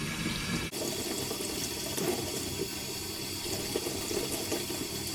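Ormers, a type of shellfish, are scrubbed under a steady stream of running tap water, giving a constant close rush with faint rubbing textures beneath it and no talking.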